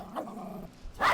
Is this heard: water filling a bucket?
no